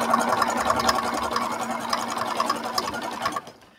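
A sewing machine stitches fabric in a steady, fast mechanical whir with a regular ticking rhythm, running close and alone before stopping abruptly at the end.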